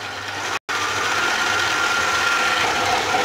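Stand mixer kneading brioche dough for chocolate-chip briochettes at maximum speed, a steady close motor whir broken by one very short dropout near the start, then running on evenly.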